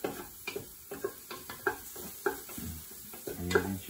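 Quiet sizzling of garlic in a pan with repeated light clinks and taps of a utensil stirring at an irregular rhythm; no talking.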